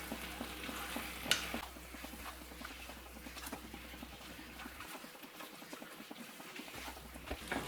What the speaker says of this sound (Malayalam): ഇതെല്ലാം കൂടി നമുക്കൊന്ന് ഇതുപോലെ ഒന്ന് മിക്സ് ചെയ്ത് കൊടുക്കാം കേട്ടോ.